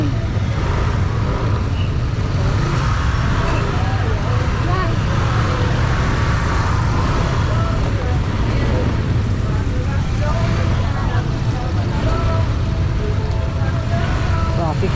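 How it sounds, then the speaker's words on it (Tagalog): Road traffic streams past near a gas station, a loud, continuous mix of engines and tire noise close by, with voices talking over it. "Traffic."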